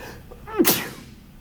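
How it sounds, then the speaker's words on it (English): A single sudden sneeze in a quiet room, with a short rising in-breath before a sharp, loud burst that quickly fades. "I feel like I'm about to sneeze"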